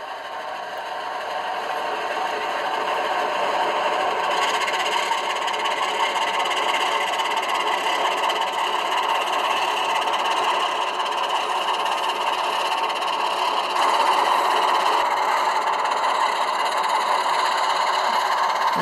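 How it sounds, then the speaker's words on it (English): ESU LokSound decoder on an HO Baldwin DT-6-6-2000 model locomotive giving flange squeal: a steady shrill metallic squeal over a humming engine drone, fading in and then holding constant and fairly loud for nearly twenty seconds. "F7's flange squeal, so I'll change direction here so you can hear that."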